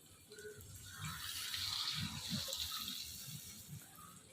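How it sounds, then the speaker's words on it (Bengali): Water being poured into a cooking pot, a soft gurgling splash that swells and fades over a few seconds at close range, with faint low background noise and no talking. "জল দিয়ে দিলাম"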